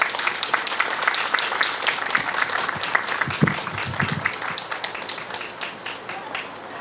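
An outdoor audience at a memorial gathering applauds to welcome the Peace Tree choir, steady dense clapping from many hands with a few voices murmuring underneath, the applause tapering off toward the end.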